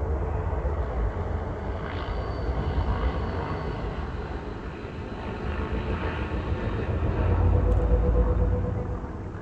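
A game spaceship launching from a station hangar, with a sustained deep engine roar and rumble that swells steadily and peaks near the end, with no one talking.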